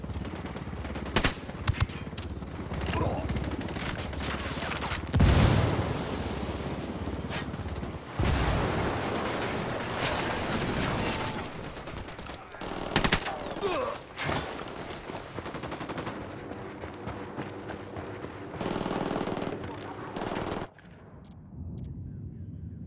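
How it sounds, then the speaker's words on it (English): Gunfire and explosions in Ghost Recon Wildlands during a firefight with the cartel: bursts of automatic fire, sharp single shots and heavy booms scattered throughout, loud and close, some bursts more distant, with brief pauses and a sudden drop near the end. "Shots fired."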